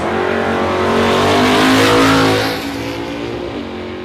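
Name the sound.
drag racing car launching down the strip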